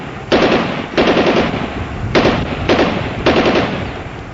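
Bursts of automatic gunfire, part of a Pakistani army attack with gunfire and medium mortars, come in five loud, evenly spaced rapid volleys with no talk.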